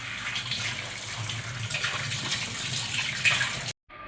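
Water splashes and pours steadily into a basin as washed dill leaves are dunked to soak, cutting off abruptly near the end.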